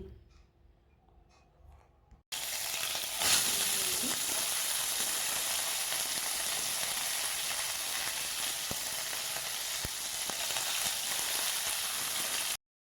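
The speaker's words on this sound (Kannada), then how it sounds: "ಹಾಗೆಯೇ ಈರುಳ್ಳಿನ ಹಾಕ್ಕೊಂಡು ಫ್ರೈ ಮಾಡ್ಕೋತಾ ಇದ್ದೀನಿ" Onions frying in oil with curry leaves and green chillies, a sudden loud burst of sizzle as they hit the pan, then a strong, continuous hiss close by with faint stirring ticks.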